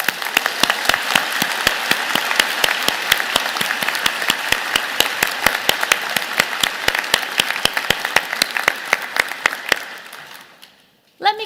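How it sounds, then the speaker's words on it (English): A vigorous round of applause at a university convocation ceremony, dense sustained clapping from a large crowd for about ten seconds before fading out, loud and steady. "round of applause."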